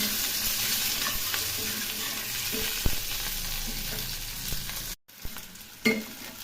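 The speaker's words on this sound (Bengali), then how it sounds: "আলুগুলো ভেজে নিচ্ছি" Potatoes fry in oil in a wok, a bright continuous sizzle heard up close, softening as it goes, with a few sharp knocks and scrapes of a spatula and a short gap near the end.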